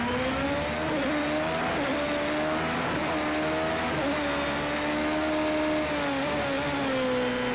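Race car in Project CARS 2 braking into a hairpin on the Mount Fuji circuit, a loud steady engine note that dips and shifts as it slows, heard alone and close with no talk.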